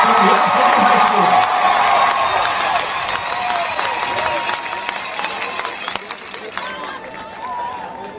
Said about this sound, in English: Let's hear a nice round of applause for the 2021 Class 5 champions from Webb City High School.